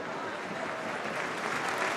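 Steady wash of applause from a stadium crowd at a women's international football match between Belgium and England as an injured player is carried off, dense and unbroken throughout.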